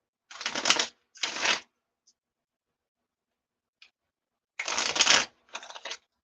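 Gilded Tarot cards are shuffled in four quick riffling bursts, close and crisp, separated by a long quiet gap with faint ticks.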